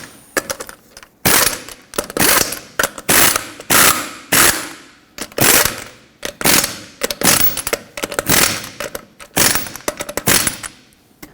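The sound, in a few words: ratchet tightening lug nuts on Toyota Tacoma wheel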